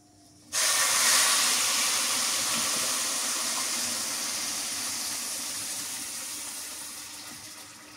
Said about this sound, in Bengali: গরম পানি দিয়ে দিই।